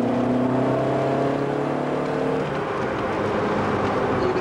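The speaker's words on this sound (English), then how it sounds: "Here we have the acceleration of a Lotus Sunbeam." A Lotus Sunbeam car engine revs upward in pitch as it accelerates hard, the tone rising steadily then settling into a loud, constant roar.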